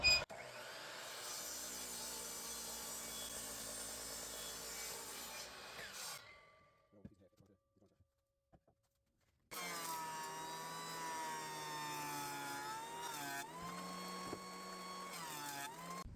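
A saw cuts 8/4 poplar lumber to length for table legs against a stop block, a loud steady whine that drops away into near silence, then starts up again and runs on, with no voices.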